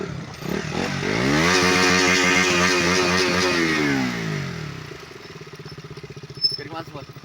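A motorcycle engine revs hard and steady while riding off-road on a rough, sloping dirt track, then drops to a chugging, pulsing idle, close and loud, with a sharp knock near the end.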